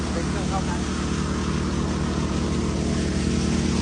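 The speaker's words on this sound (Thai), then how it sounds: "เร่งเครื่องสุดนะคะ" A 4-inch water pump engine revs hard and steady, a loud droning roar with a strong pulsing low rumble that runs continuously without letting up.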